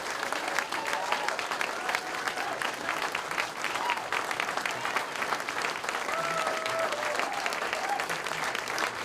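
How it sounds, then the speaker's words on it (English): Audience at a high school National Signing Day event applauding student athletes, steady dense clapping sustained throughout at moderate distance, filling the room without pause. "How about we give all these student athletes one more round of applause?"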